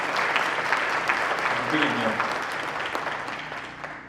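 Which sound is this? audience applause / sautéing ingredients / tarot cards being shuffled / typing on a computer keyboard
audience applause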